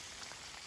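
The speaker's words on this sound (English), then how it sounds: "This is way more rain than I bargained for." Steady rain falling on the Ozark Highlands Trail, a dense, even hiss of drops pattering on surfaces close by, quiet and unbroken, with no voices.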